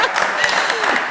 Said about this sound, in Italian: Applauso per Alex.